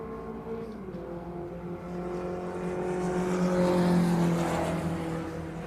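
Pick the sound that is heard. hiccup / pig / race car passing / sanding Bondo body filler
race car passing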